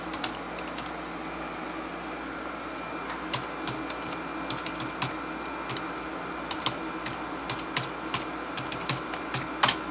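Password typed on a computer keyboard while setting up a Kangaroo mini PC: scattered, uneven light key clicks over a steady room hum, close and fairly quiet.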